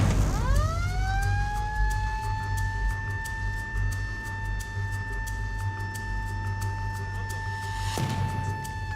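An ambulance siren wails loudly in Cité Soleil, Port-au-Prince, with a steady rising-then-held electronic tone close by over vehicle rumble and road noise.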